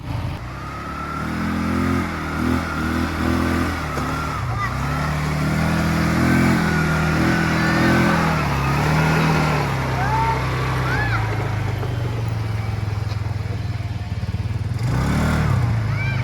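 An ATV engine runs steadily as the vehicle drives through a jungle theme park, its motor droning and shifting pitch throughout, with people talking over it.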